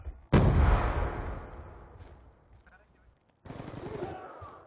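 An M27 rifle in a video game fires on full auto, starting with a loud, dense rattle of shots that fades out, then after a short silence a second burst, with a voice talking in between.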